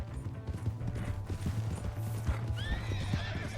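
In Red Dead Redemption 2, a horse's hooves pound in a steady galloping clip-clop close by, and near the end the horse lets out a high whinny over the hoofbeats.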